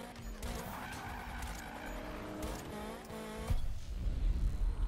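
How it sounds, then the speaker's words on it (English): Tires skid as a VW Golf GTI drifts in Need for Speed (2015), a sustained engine drone with rising and falling squeal tones that cuts off abruptly near the end, replaced by a rougher rush of noise. "that's a pretty solid drift"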